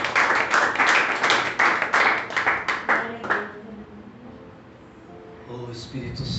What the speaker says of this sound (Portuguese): Você pode dar um aplauso ao Senhor por isso? Aleluia, aleluia, mais forte esse aplauso.